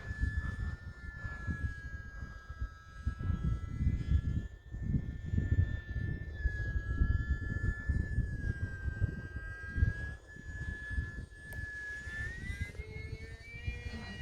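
An E-flite UMX Timber X RC plane flying at night in wind makes a steady, thin electric motor whine that shifts in pitch as it maneuvers, over a constant rumble of wind buffeting.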